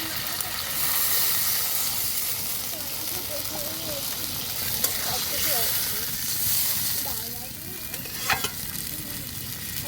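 Water added to a pan of rui fish curry cooking in yogurt, giving a steady broadband sizzle and hiss with some stirring and scraping throughout, a brief louder burst near the end, and a faint voice underneath.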